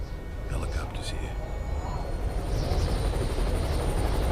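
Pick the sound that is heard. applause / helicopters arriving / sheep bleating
helicopters arriving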